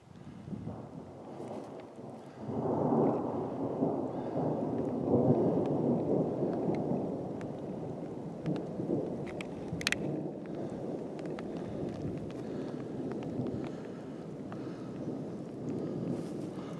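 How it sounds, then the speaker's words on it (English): Thunder rumbles from a thunderstorm rolling in over an exposed ridge line, a deep, sustained low roll that swells after a couple of seconds and lingers, with wind noise buffeting the microphone throughout. "Thunderstorm rolling in, being on an exposed ridge line."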